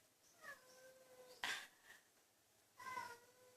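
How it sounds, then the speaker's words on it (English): A house cat meows twice nearby, a short call and then a longer one, with a brief rustle between them in an otherwise quiet room and no talking. "That's my cat coming in."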